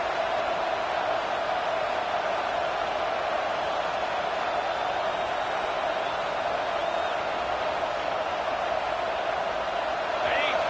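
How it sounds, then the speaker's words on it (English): A football stadium crowd roars in a dense, unbroken wall of noise that stays loud and even throughout, with no clear voices standing out. "this crowd is at fever pitch"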